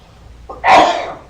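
A single sharp sneeze, a quick intake then an explosive burst, close and loud in a quiet room.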